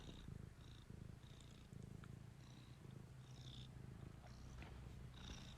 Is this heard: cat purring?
yes